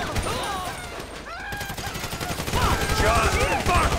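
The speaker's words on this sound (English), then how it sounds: "So I guess we're shooting our way out of here" Gunfire rattles in rapid bursts during a GTA V heist shootout, with dense automatic fire growing louder toward the end while characters shout over the chaos.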